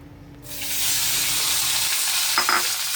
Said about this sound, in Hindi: आम को मैंने रफली कट कर लिया है। अब इसे हम कढ़ाई में डाल देंगे